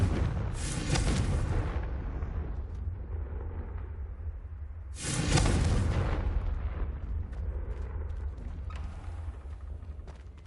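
Two loud fiery blasts from the Confringo spell in Hogwarts Legacy, one near the start and a second about halfway through, each a broad booming burst trailing off into rumbling noise.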